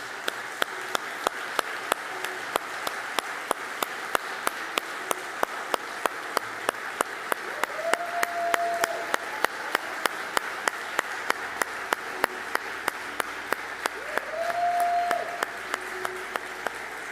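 A church congregation claps together for a sustained stretch, a steady wash of many hands with regular sharp beats running through it, while a sustained musical tone rises briefly twice underneath.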